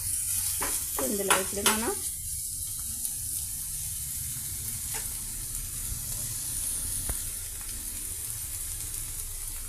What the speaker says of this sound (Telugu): ఫ్రై అవుతున్నాయండి. ఒక నిమిషం పాటు వీటిని ఫ్రై చేసేసి